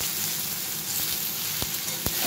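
Ridge gourd frying in a pan, a dense steady sizzle close by with a couple of soft stirring knocks near the end.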